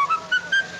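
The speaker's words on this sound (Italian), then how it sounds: "Voglio fischiettare." A man whistles a song tune in short melodic phrases, three bright sustained notes with brief gaps, clear and close in a 1940 film scene.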